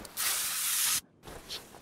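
A spray can in Car Mechanic Simulator 2021 gives one sustained hissing burst of almost a second. A short silence follows, then quieter noise with a faint puff.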